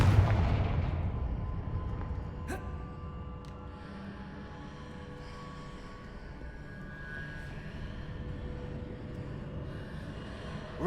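Confringo blasting spell in the Hogwarts Legacy video game: a loud explosive boom at the start decays into a long, low rumbling tail, with a couple of faint sharp cracks and distant crackle afterward.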